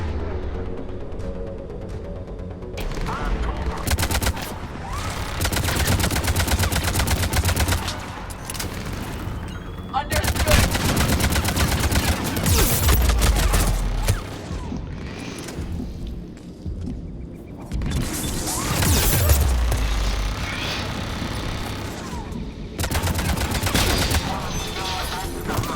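Turret gunfire in the sci-fi shooter Mass Effect 3, sustained bursts with heavy booms and blasts crashing through a dense, loud battle mix for most of the stretch.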